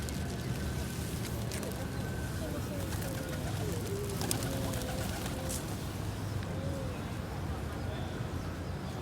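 Pigeons cooing during feeding, with repeated soft low coos over a busy, constant outdoor background of fluttering and shuffling noise, and occasional sharper sounds, while people can be heard nearby.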